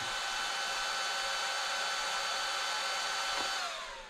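Cooling fan on a Kyosho MP9e Evo RC buggy whirs in a steady, loud high-pitched whine, holding constant before winding down slightly at the end.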